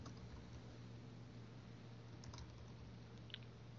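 Computer keyboard typing at a desk while a name is entered into an IPO configurator admin screen, a faint soft patter of keystrokes over a steady low hum.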